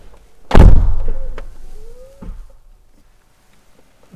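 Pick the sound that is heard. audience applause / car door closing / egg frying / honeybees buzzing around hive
car door closing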